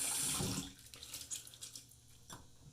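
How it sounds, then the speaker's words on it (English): A bathroom tap runs for a brief rinse of a shaving brush, a loud close gush for about half a second that cuts off into faint drips and small handling noises. "Just a quick rinse."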